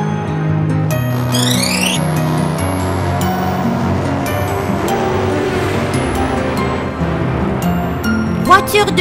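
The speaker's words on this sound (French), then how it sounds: "Voiture de course." Cartoon race car in a children's animation, a continuous loud engine roar with quick sweeping squeals and whooshes over it, under busy music-like sound.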